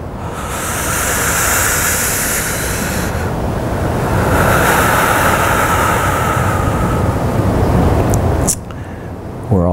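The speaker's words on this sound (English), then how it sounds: "Maybe time your breath a little bit with the ocean." Ocean surf washing steadily in the background during a guided breathing meditation, a broad continuous roar that swells and eases in long waves, with a soft voice speaking over it.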